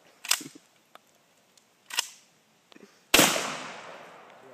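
A sawed-off 20 gauge Winchester pump shotgun fires one sharp, loud blast outdoors after a few quieter clicks and clacks, and the shot rings out and decays over about a second.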